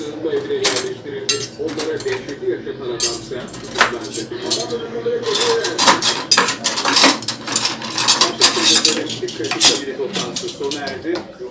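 Metal cutlery clinks and jangles as four spoons and four forks are taken out for a home iftar table, with sharp, irregular chinks close by and a voice talking throughout.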